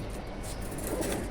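Pigeon cooing at a rooftop loft, soft low murmuring coos over steady outdoor background noise, fairly faint and continuous.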